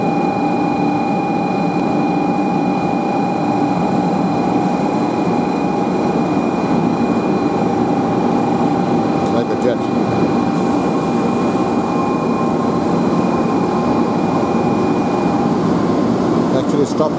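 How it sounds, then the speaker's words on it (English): A Shinkansen bullet train pulls into Shin Osaka station with a loud, sustained rumble and a steady electrical whine, tonal hums fading and shifting near the end as it slows, with faint voices in the background. "Shinkansen approaching."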